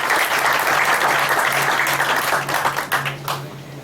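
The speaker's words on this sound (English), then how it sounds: "Big round of applause for" Loud applause fills a room at a farewell party, many hands clapping in a dense burst that gradually thins toward scattered claps at the end, with a faint low hum underneath.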